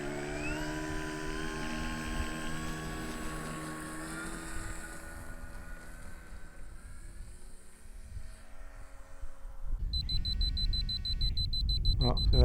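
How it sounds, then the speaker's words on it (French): Low-battery alarm on a radio-control transmitter for a model aircraft: a repeated high electronic beeping that starts suddenly late on, over a whining model engine and wind noise. "Ah, c'est l'alarme de la radio"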